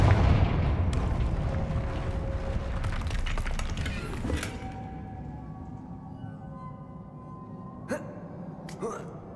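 Explosive Confringo spell blasts in Hogwarts Legacy boom out in a loud burst of rumbling fire over the first few seconds, then fade into a quieter game ambience broken by two short sharp cracks near the end.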